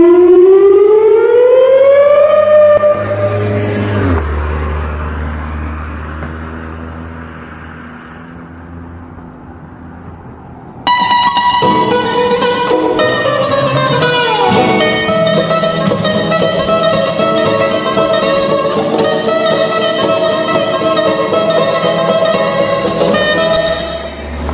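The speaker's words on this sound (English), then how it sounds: "Number 5 Siren." A loud civil defense siren winds up with a rising wail, fades away, then a second blaring siren tone cuts in abruptly and holds steady to the end, with no talking.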